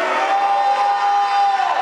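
A church congregation shouts and cheers in praise during a worship service, a loud, sustained crowd roar with whoops that holds steady for nearly two seconds before tapering at the end.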